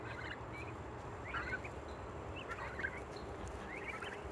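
Several turkeys gobble in scattered bursts over a steady background hum, fairly distant and moderately faint.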